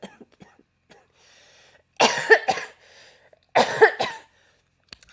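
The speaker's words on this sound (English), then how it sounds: "It's a dry cough, though." Two separate dry coughs from one person, each a short harsh burst of two or three hacks, close and fairly loud, with quiet gaps and faint background murmur before them.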